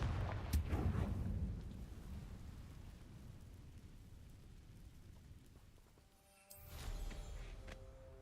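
A Confringo spell explosion in Hogwarts Legacy: a deep, rumbling blast booms up front and slowly fades. A second sharp burst follows near the end.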